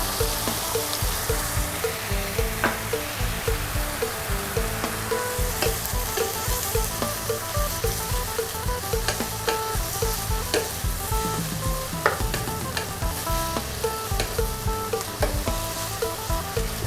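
Pork and seasonings stir-fried in a hot pan for a bamboo shoot dish, a loud, steady sizzle with continuous rhythmic scraping and tapping of a spatula, close up and alone.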